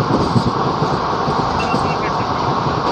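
The 22455 Sainagar Shirdi–Kalka SF Express runs at speed, a dense, continuous roar of wheels and carriage rumble heard from on board, with faint clatter throughout.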